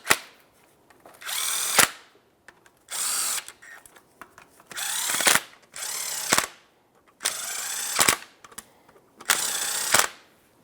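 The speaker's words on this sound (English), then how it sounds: "Now we can start tightening all of our bolts." A power driver spins transmission oil pan bolts on a 2000-2005 Buick LeSabre in six separate bursts of about a second each, close and loud, with quiet pauses between them and no talk.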